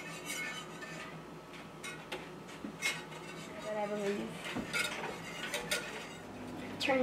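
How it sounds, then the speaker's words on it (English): A spoon scrapes and clinks in a pot as flour is stirred into melted butter and chicken broth for squirrel pot pie, soft metallic taps under a person talking. "Stir, stir, stir."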